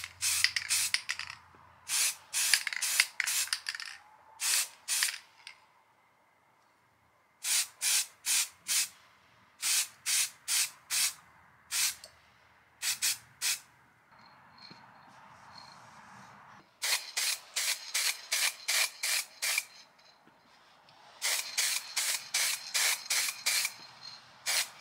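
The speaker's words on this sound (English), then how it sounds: "Then I'll spray paint it with whatever blue paint I find" Rattle-can spray paint applied to a plastic handle of a vintage Ghostbusters ghost trap toy, short bursts of hissing spray in quick repeated groups with pauses between, close and clear.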